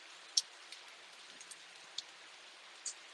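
Steady rain falling outdoors, a faint, even hiss with a few scattered drips and taps standing out over about three seconds, no voices.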